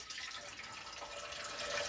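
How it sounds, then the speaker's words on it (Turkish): Tap water being poured into the reservoir of a filter coffee machine, a steady, soft splashing and trickling stream that continues unbroken with no one talking. "Şimdi ise suyumu ekliyorum."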